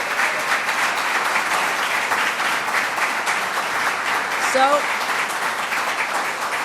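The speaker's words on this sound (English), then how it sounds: "Let's give that a round of applause." Crowd applause at an outdoor Jones Beach anniversary announcement event, steady dense clapping from many people at moderate distance, with a brief voice heard near the end.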